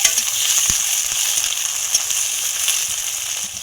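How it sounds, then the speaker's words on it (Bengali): Sliced ivy gourd frying with onion in a pan gives a steady, close sizzle with a few soft scraping stirs scattered through, no voices present. "পেঁয়াজের সঙ্গে কুদরিটাকে ভালো করে ভেজে নিতে হবে"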